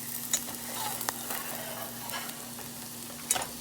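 Browning onions sizzling in a pan, a soft steady frying hiss with a few light scrapes of stirring, faint and close, with a low constant hum underneath and no talking.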